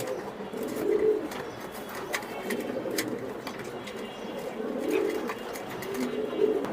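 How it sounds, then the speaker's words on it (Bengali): A pair of jet-black Black Dragon pigeons coos in repeated low, soft rolling calls, close by and steady throughout, with faint chirps in the background at a pigeon seller's in Mirpur, Dhaka. "দেন ব্ল্যাক একদম কুচকুচে ব্ল্যাক দুটোটা কবুতর"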